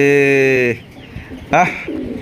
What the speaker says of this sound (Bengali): এত সুন্দর কবুতর যদি থাকে আর কি লাগে